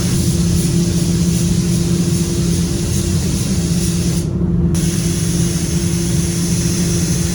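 Compressed air blows across freshly sprayed automotive paint to dry it, a loud continuous hiss over a steady low compressor hum, broken by a half-second gap in the hiss midway.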